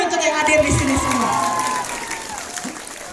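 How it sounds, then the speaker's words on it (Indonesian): An audience at a high school visit applauds and cheers, a burst of clapping and voices that tapers off over a few seconds. "Tepuk tangan untuk yang hadir di sini semua."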